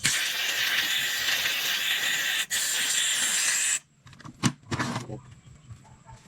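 Water splashed onto a hot, stuck car disc brake hisses loudly as steam for several seconds, then cuts off, followed by a few quieter spurts and splashes.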